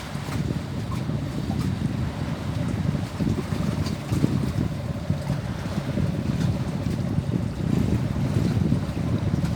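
A fishing boat's engine hums steadily while wind buffets the microphone and water washes around the hull, a continuous low rumble throughout, near Gökçeada.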